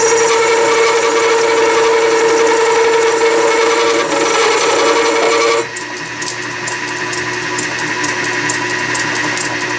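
Tool chatter on a Logan metal lathe cutting a radius into a hemisphere gives a loud, sustained, high-pitched ringing squeal with a steady hiss. It changes abruptly partway through to a rougher, buzzier tone.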